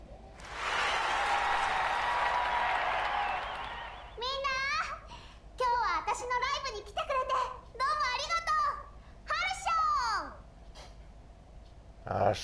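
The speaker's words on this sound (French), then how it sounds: "Je crois que c'est un truc d'acclamation en russe." A crowd cheers in Sword Art Online Lost Song. A loud burst of broad cheering noise fills the first few seconds, then gives way to bright, excited voices calling out in short bursts.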